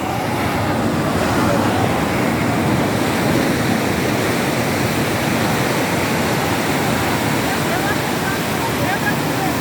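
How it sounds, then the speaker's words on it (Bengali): Sea waves at New Digha beach, a rocky shoreline, roar as a steady, loud wash of surf with wind noise, continuous and close throughout. "এই দেখো ঢেউ, দেখো ঢেউ, এটা হচ্ছে সমুদ্রের ঢেউ"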